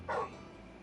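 A short, soft dog whimper or yip from the video game Final Fantasy XVI, a single brief cry over quiet background ambience.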